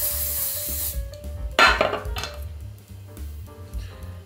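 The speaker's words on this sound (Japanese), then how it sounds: "ツヤ出しスプレーって感じです。" Shine spray is misted onto hair at the bangs in a short burst that fades after about a second, followed by a quick louder hiss and faint rustling and handling sounds, over quiet background music.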